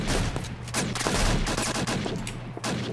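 Shotgun blasts and rapid gunfire ring out in a Roblox World War II battle game, dense overlapping shots at close range, loud and continuous.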